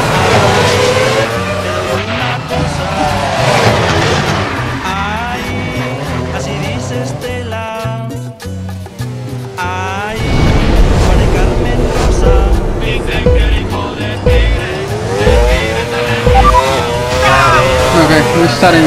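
A V10 Formula 1 car in Assetto Corsa screams through gear changes around the Spanish circuit, revving high, dropping briefly near the middle during a shift and braking, then roaring back loud with tyre scrub.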